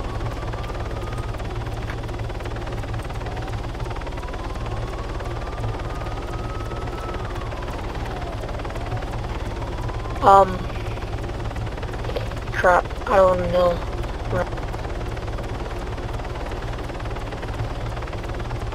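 A video-game helicopter's rotor hum drones steadily in the distance, broken by a few sharp bursts of gunfire; a voice mutters briefly.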